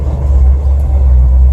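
A 1970 Chevy C10 pickup truck engine idling and revving, giving a loud, steady, deep rumble heard close up with no speech over it.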